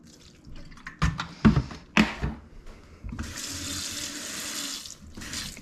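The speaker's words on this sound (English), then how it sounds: "add some water" Water running from a tap into a cooking pot, a steady splashing pour after a few knocks and clatters of the pot being handled.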